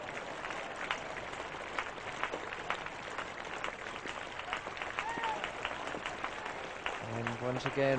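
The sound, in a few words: crowd applause at a cricket ground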